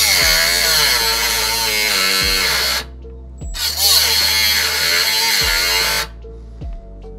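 Loud, close power-tool cutting on a Subaru WRX intercooler water box build, two long sustained whining bursts with brief gaps and a sudden stop, under a trailing tail of motor noise.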